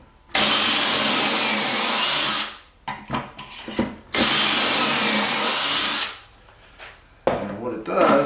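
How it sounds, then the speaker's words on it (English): A power drill bores pocket holes in wood for table legs and a face frame, two long steady high whines separated by short bursts of handling clatter and a brief restart at the end. "So I'm going to finish drilling out these pocket holes"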